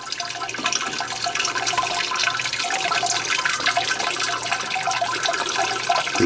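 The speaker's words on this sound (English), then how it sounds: "The bucket's out and it's draining" Water drains steadily out of the bucket of a Brewers Edge brewing system, a continuous close rushing and trickling wash that holds at an even level with no talk over it.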